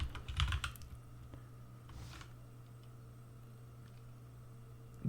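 Fast, crisp keystrokes on a computer keyboard, clustered in a short burst at the start and then one soft tap, with a steady low machine hum under the near-silent remainder; no talking.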